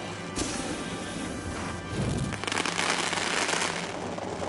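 Fireworks burst and crackle in The Grand Tour video game, a dense, loud run of explosive smashes and crackling that swells and grows busier in the second half, with no talk over it.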